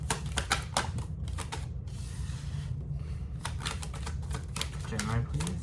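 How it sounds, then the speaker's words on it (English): Tarot cards are shuffled in a steady run of crisp, close riffling and sliding clicks, with a brief smoother rustle in the middle, under a low background hum. "Just give me a minute here to kind of get some cards out for Gemini."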